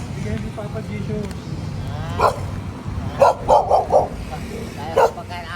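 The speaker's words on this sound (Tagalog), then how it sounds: "Madami mong aso, kuya." Several dogs barking, a handful of sharp, mid-distance woofs that come singly and then in a quick cluster, over a background of people talking.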